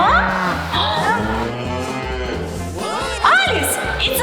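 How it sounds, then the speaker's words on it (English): A cow moos in a children's animal adventure cartoon, a long, low call heard under and alongside continuous voices and background music. "It's a cow."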